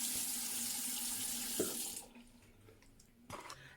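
Tap water runs steadily into a sink while a toothbrush is soaked for a clove teeth-whitening routine, a close broadband rush that cuts off at about the midpoint, followed by a brief splash near the end.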